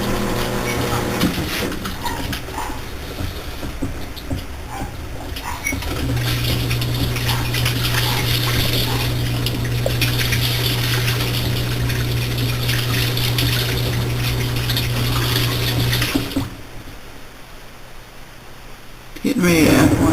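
A Whirlpool Cabrio top-load washing machine rinses, water rushing and gushing into the drum with a steady pump hum, loud and close, then dropping to a quieter churn; a person talks over it.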